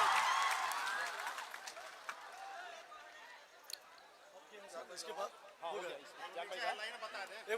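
A crowd at a political speech event in India breaks into applause and chatter that is strongest at the start, then fades under a loud voice on the speaker system.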